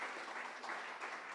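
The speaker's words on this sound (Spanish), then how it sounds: "Dale un aplauso al Señor." Congregation applauding during a Sunday church service, a steady, even wash of clapping from many hands that continues throughout at a moderate distance.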